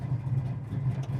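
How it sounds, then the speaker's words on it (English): Low, steady rumble of a big-block V8 in a 1967 Camaro idling at around 700–800 RPM, heard close and continuous with a slight lumpy pulse. "It's idling right now about 700,"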